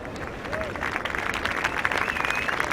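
A crowd at a surfing contest in France claps and cheers in a broad wash of noise, with a commentator's voice running over the top.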